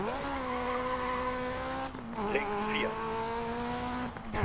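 A rally car in the DiRT 4 racing game, on a Spanish rally stage, revs with a steady engine drone and briefly slides out with a short tire squeal midway, the engine note dipping and recovering as a voice talks over it.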